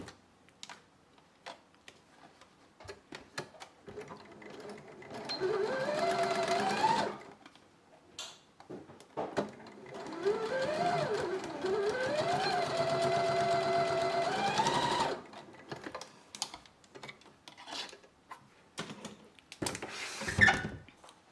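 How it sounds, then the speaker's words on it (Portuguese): A sewing machine stitches a seam joining two fabrics for a hair towel cap, running in two sustained bursts of steady mechanical whirring, separated and followed by quieter clicks and fabric handling. "E vou passar uma costura aqui, ó, juntando, unindo esses 2 tecidos."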